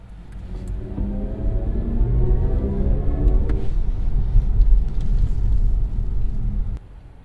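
BMW electric car accelerating with its synthetic drive sound, a smooth rising whirring hum climbing in pitch over a low road rumble, then fading out near the end.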